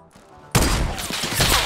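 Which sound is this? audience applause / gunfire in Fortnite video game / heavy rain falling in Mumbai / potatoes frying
gunfire in Fortnite video game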